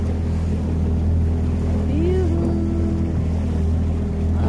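Choppy sea slapping around a small boat off Narvik, Norway, heard as a steady low engine drone and wash with wind, and a brief rising whine partway through.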